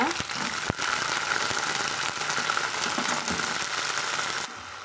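Crushed turkey berries sauté in a pan for a tamarind curry, giving a steady close hiss of frying with occasional clicks and scrapes of a utensil.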